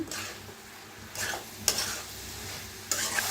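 Mushroom bhaji (dingri bhaji) stirred in a pan, spoon scraping through the sizzling mixture with a few louder scrapes and clinks over a steady frying hiss, close and without speech.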